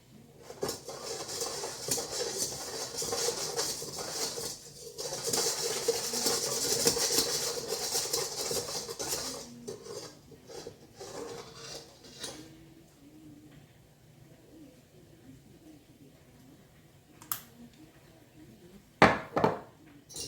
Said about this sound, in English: I'm going to whisk all that together